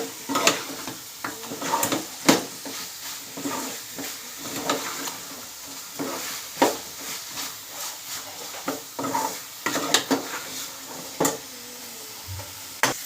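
Curry frying in a pan and being stirred, with a continuous sizzle under repeated scraping strokes of a spoon against the metal, close and clear, with no talking.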